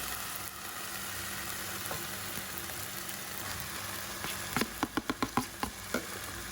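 Grated coconut fries for serundeng with a steady, close sizzle. Near the end a quick run of sharp scraping taps comes from stirring in the pan. No voices.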